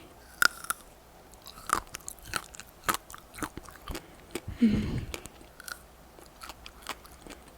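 Close, crunchy chewing of chocolate-filled mammoth bread, with irregular bites and mastication clicks and a brief soft murmur from the eater.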